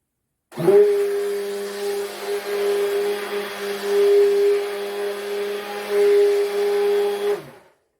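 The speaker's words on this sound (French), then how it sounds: "Vous prenez votre mixeur plongeant. Vous voyez, moi, il ne sert qu'à ça. Hein, et vous mixez." An immersion blender whirs loudly at close range while mixing a homemade Marseille soap laundry detergent, starting abruptly, holding a steady motor whine with slight load changes for about seven seconds, then stopping.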